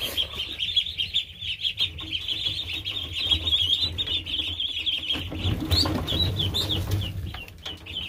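Young ducklings, around two weeks old, are let out of their pen, and a dense chorus of high chirping and peeping carries on throughout, with lower clucking and scuffling swelling in the second half as they scatter.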